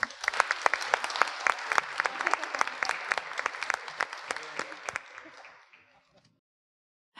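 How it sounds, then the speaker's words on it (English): An audience at a museum panel event claps for the speakers, the crisp, scattered handclaps of a modest crowd tapering off into silence after about six seconds. "I'd like to offer a warm round of applause to our speakers"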